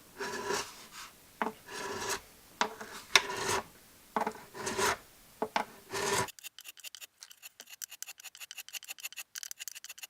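Frets on a Sigma acoustic guitar being filed and crowned, rhythmic rasping file strokes in short bursts, then a quicker run of light, scratchy strokes, close and alone with no talking.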